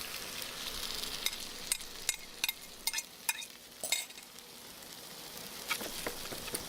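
Sliced courgettes and egg fry for a frittata, a quiet continuous sizzle in the pan broken by several sharp clinks and scrapes of stirring.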